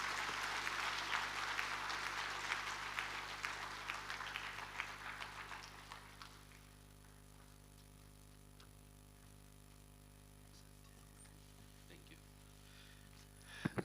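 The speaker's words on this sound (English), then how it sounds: "Please let's clap for him as he's coming up." Audience applause at a Correctional Services Week 2024 ceremony as a guest of honour comes up to speak, a dense clapping crowd for about six seconds, then fading to a quiet hall with faint scattered claps.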